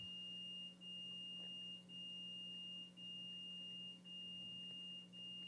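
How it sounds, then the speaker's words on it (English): A steady electronic tone with short periodic dips about once a second, faint and continuous against a low hum, no talking. "Something is beeping."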